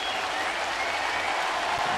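A dense roar of applause and cheering fills a Blue Jays home baseball stadium as the crowd of over 22,000 reacts to the game, steady and loud throughout with no clear voices standing out.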